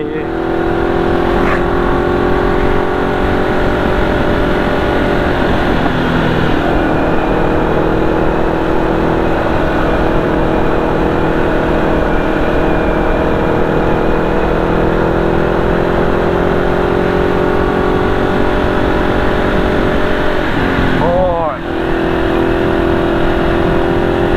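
A car engine roars after a downshift on a mountain road through Khao Sok at night. The steady, loud drone holds for the whole stretch, rising and falling slightly in pitch, with a brief sweeping change near the end.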